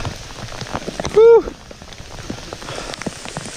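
Torrential, freezing cold rain pours during a bike ride, a steady dense patter under a voice, with a brief loud exclamation partway through.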